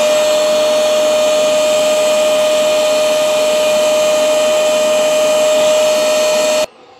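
Hoover CleanSlate Plus carpet and upholstery spot cleaner running steadily, a loud continuous motor whine with a fixed tone, alone with no talk, cutting off abruptly near the end.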